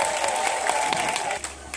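Congregation at a praise and worship service in Divo applauding and cheering for Jesus, a dense continuous wash of clapping with crowd voices mixed in, steady and fairly close throughout.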